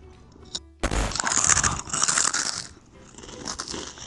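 Crunchy Cheetos snacks are bitten and chewed close to the mic, with a loud burst of crackly crunching followed by softer continued chewing in a quiet room.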